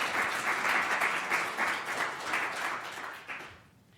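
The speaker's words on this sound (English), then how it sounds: "Let's give a round of applause for our sponsors." Sustained audience applause for event sponsors at a campus talk on law enforcement and social justice, a dense steady wash of many hands clapping that fades out near the end.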